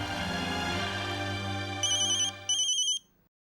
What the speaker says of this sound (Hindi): वैसे देखना किसका फोन है।